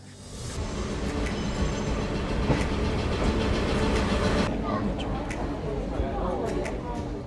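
The Sagano Romantic Train at Arashiyama, Kyoto, rumbles steadily along the tracks, loud and close, with a low continuous roar and some faint squealing as it rolls on.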